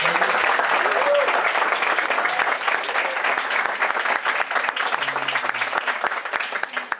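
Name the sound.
audience welcome applause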